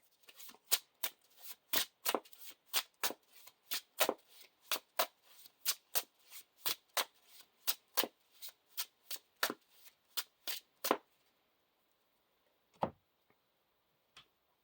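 Playing cards from a Lord of the Rings card game are shuffled back into a deck: a quiet, steady run of crisp snapping riffles lasts about eleven seconds, followed by a single soft tap.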